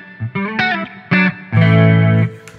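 Electric guitar played through a Line 6 Helix with chamber reverb and the delay switched off, in mono: a few loud, distorted picked notes and short chords, then one sustained ringing chord that fades into the reverb tail, with no voices.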